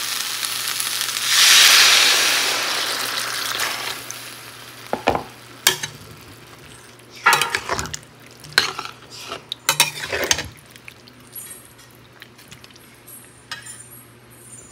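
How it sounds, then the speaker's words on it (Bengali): Water poured into a pan of fried flat beans, eggplant and potatoes, with a rushing sizzle that swells and fades, followed by scattered clinks and scraping of a spoon against the pan. "শিম, বেগুন, আলু ভালো করে ভাজা করে নিয়েছি। এবার এর মধ্যে দিয়ে দেবো জল।"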